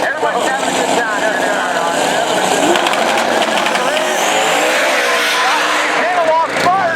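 A Pro Mod drag racing car makes a loud, sustained run, its engine roaring steadily and continuously amid crowd noise at the strip, with a commentator talking over it throughout.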